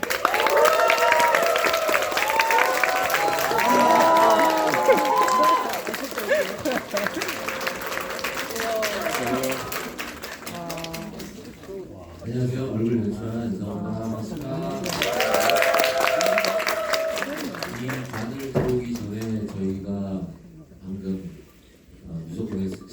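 A cinema audience at a CGV screening in Daegu applauds and cheers for the cast and director's stage greeting, with loud amplified talk over the crowd and quieter gaps in the middle.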